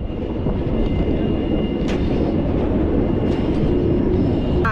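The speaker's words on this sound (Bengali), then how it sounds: "আর এখান দিয়ে যখন ট্রেনটা যায় বেশ অসাধারণই লাগে।" Vistadome tourist train running through Buxa forest in the Dooars, heard as a loud continuous rumble and roar of the moving coaches with faint rail clatter and occasional sharp knocks, no talking.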